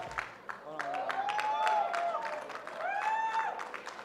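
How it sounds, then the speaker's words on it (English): Audience clapping for a groomsmen's bunga dance at an evening celebration: soft, steady applause with a few whistles and cheers rising over it, moderately distant. "Give them a big round of applause, ladies and gentlemen"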